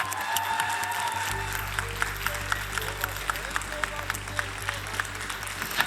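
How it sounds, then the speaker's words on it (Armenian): A studio audience at a televised singing competition claps steadily, a dense even patter of applause with a faint crowd murmur, sustained throughout. "Ծափարում ենք, բարձր ապրեք"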